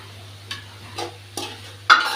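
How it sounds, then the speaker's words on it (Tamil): A spoon scrapes and stirs through brinjal curry with coconut, four separate short strokes spaced about half a second apart, over a low steady hum from the stove. "போட்டு நல்லா கிளறுவோம்."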